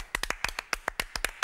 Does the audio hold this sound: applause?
yes